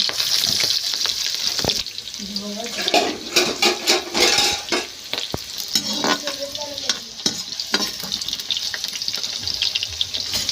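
Green chillies sizzling and frying in a pan with chicken, a steady crackling hiss with scraping stirring sounds throughout, close and fairly loud, no talking.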